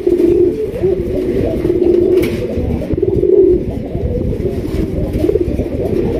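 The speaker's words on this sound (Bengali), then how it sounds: "এখন যেটা ডাকতেছি স্ক্রিনে এটা হচ্ছে নর কবুতর" A male pigeon coos close by in a steady series of low rolling calls that continue for several seconds, with a faint engine rumble behind.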